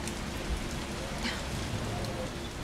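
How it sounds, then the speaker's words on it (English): Rain falls outside in the Resident Evil 3 Remake, a dense, even hiss of drops on surfaces that holds steady throughout with no voices. "It's raining outside."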